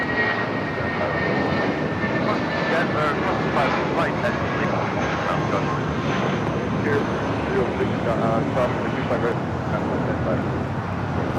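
A Viva Aerobus airliner at Los Angeles LAX airport roars steadily with jet engine noise throughout, loud and continuous, while a voice talks over it.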